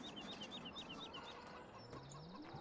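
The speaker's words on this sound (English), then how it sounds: "Chickens through here." Chickens cluck in a barn in the Farming Simulator 17 video game, a busy run of quick, chirpy clucks and squawks close by, layered over a low ambient hum.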